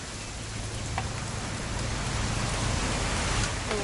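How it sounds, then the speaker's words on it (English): Steady rain falls on a weekend hunting trip in the video game What Remains of Edith Finch, a dense even hiss of drops with a few faint clicks, no talking. "It's gonna rain the whole weekend, isn't it?"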